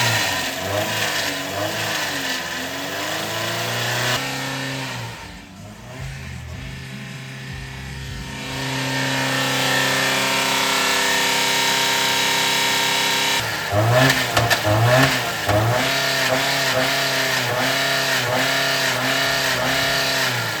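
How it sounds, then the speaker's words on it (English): Car engine running on Dr. Pepper and barbecue sauce, revving loudly and roughly, then dropping to a lower idle before surging back up to a sustained, strained roar, close and with no talk. "engine's a little rough"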